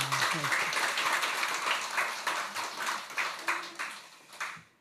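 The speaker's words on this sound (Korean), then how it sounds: "우리 다시 한번 격려의 박수 한번 하겠습니다" Church congregation gives a round of encouraging applause for the choir during Sunday worship, with scattered hand claps rising and thinning out toward the end.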